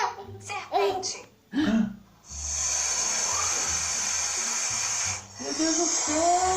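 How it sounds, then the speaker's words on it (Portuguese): A snake gives one long, steady breathy hiss lasting about three seconds, close and clear, with a voice heard just before and after it. "Serpente."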